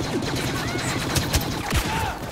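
Rapid blaster-style gunfire from a Star Wars Battlefront heroes versus villians multiplayer match, firing at an enemy in a dense continuous stream mixed with busy battle noise throughout.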